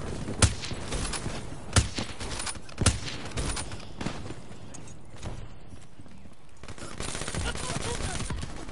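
Gunfire in Call of Duty Black Ops 3, three sharp spaced shots early on followed by scattered quieter pops and clatter, moderately loud and close.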